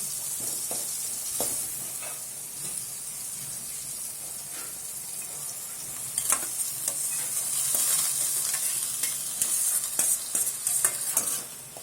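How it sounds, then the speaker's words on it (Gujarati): Green garlic sautés in a pan for a Kathiawadi vegetable dish, giving a steady sizzle with frequent spoon clanks and scrapes that grow busier toward the end, with no voices. "એ શાકની અંદર સૌથી પહેલાં લીલું લસણ સાંતળી અને પછી આપણે લીલી ડુંગળી નાખશું"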